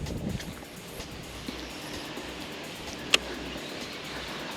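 Strong wind gusting outdoors beside the water during baitcasting, a steady low rumble buffeting the microphone with one sharp click partway through.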